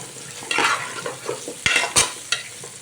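Pumpkin pieces are stirred and fried in a pan for a sweet: a spoon scrapes and clacks in a few uneven strokes over a light, crackling sizzle, close and unaccompanied by talk.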